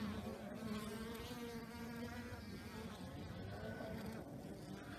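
Honey bees flying at a nuc hive entrance make a constant close buzzing drone with overlapping wingbeat hums that carries on without a break.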